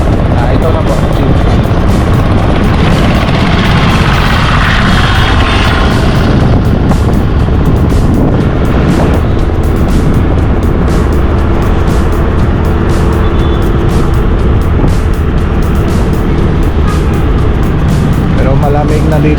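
Continuous engine drone of an Indian three-wheeled jeep with surrounding road traffic, loud and steady throughout, with a voice talking over it at times.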